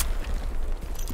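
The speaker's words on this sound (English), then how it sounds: "Grenade." A grenade detonates in the World War II shooter Hell Let Loose: a loud, close, broadband boom filling the whole short moment, with a rumbling low end and no speech over it.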